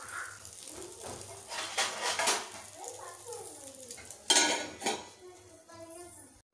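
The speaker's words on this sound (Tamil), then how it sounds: "ஆம்லேட் ஸ்டைலே நீங்கள் ஊற்றிட்டு எண்ணெய் விட்டு நல்லா திருப்பி போட்டு வேக வச்சுருங்க." Egg and drumstick leaf omelette cooking in a pan, with light clinks of utensil against pan, scraping, and a soft sizzle, plus a sharper clatter near the end as it is flipped.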